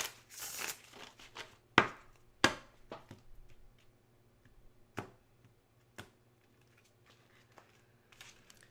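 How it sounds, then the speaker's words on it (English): Tarot cards are shuffled in quick, soft riffling bursts and crisp card slaps at close range, with the busiest flurry at the start and sparser taps trailing off. "I want to do one more shuffle."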